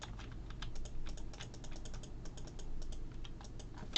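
Rapid keystrokes on a computer keyboard clatter in a steady, uneven stream of clicks, close and fairly quiet, with no voices over them.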